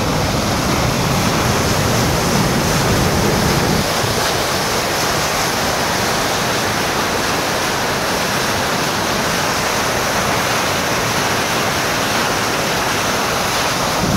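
Water rushes through an automatic reservoir dam at high speed, a loud, dense, unbroken roar close by that holds steady throughout, with a slightly heavier low rumble in the first few seconds.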